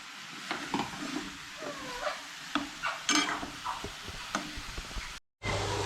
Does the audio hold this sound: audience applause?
no